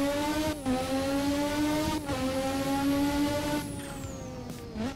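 Turbocharged race car engine in a sim racing video game, loud sustained high-pitched whine that climbs steadily through the gears with quick shifts, alone and up close.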